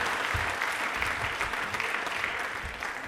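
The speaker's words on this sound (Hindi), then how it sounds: "तालियां एक बार जोरदार हो जाए प्लीज" Applause at a televised quiz and award event, a loud, continuous patter of clapping from a crowd that holds steady throughout.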